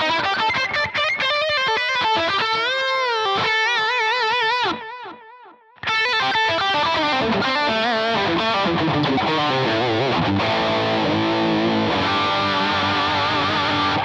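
Distorted electric guitar through a Line 6 Helix preset with delay, loud sustained chords and bends with repeating echoes, a brief dip in the middle, then heavier riffing.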